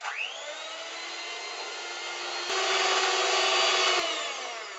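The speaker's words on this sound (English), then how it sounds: "And then we're going to mix that together with an electric whisk." Electric whisk whirring as it mixes marshmallow batter with caster sugar, a steady high motor hum that starts abruptly and rises slightly in pitch and loudness midway.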